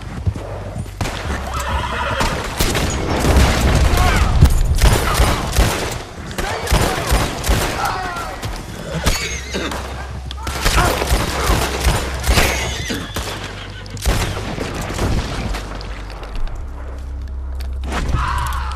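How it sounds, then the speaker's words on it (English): Gunfire in a Red Dead Redemption 2 town, scattered shots cracking amid neighing, whinnying horses and clip-clopping hooves, with a loud, busy, chaotic mix and a voice talking at moments. "Hey, you guys are shooting at me."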